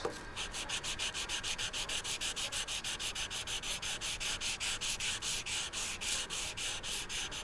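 A camera body is rubbed by a gloved hand in fast, even back-and-forth strokes, giving a close, steady swishing scrape that repeats about five times a second with no talking.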